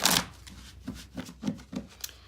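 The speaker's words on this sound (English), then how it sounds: "I'm gonna shuffle a couple more times here so we get the cards that are meant for you" Tarot cards are shuffled by hand in a series of soft, rhythmic riffling bursts, close and quiet, about five in quick succession.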